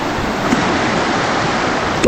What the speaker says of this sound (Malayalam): ഓ ഇവിടെ അത്യാവശ്യം വേറെ വെള്ളച്ചാട്ടമുണ്ട് കേട്ടോ